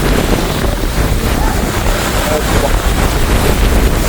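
Stormy wind and rough, churning sea waves pound the coast at Keerimalai during a cyclone, a loud, continuous broadband roar with steady wind buffeting throughout.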